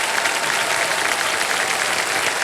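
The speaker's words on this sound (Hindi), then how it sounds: "ये तालियां बजती रहें इनके लिए," Studio audience on the KBC quiz show claps for contestant Meenakshi, a thick, uniform roar of hands that stays loud and even throughout, with no talking over it.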